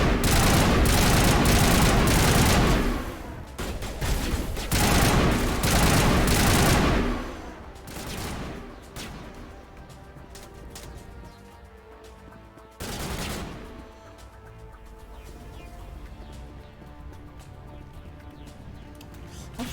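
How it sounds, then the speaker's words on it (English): Dense bursts of automatic gunfire in Mass Effect, loud rapid volleys for several seconds, then sparser scattered shots and a later renewed burst amid ambient game noise. "Who's shooting at me?"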